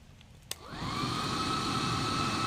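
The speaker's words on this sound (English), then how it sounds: "I thought I'd just introduce an extra bit of oxygen with the use of this hairdryer here." After a sharp click, a handheld hairdryer whirs up and blows a loud, steady stream of air into a rocket stove fire, holding a constant roaring hum to the end.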